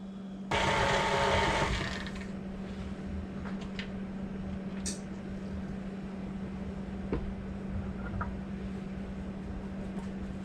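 An electric mixer whirs loudly for a short burst while blending banana bread batter with salt, baking soda and two large eggs, then drops away, leaving a steady hum with faint clinks.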